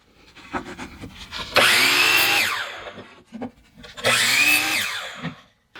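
Power saw fitted with a stop block cutting wood scraps: two loud, sustained whining cuts, each a couple of seconds long, separated by a quieter pause with light handling knocks.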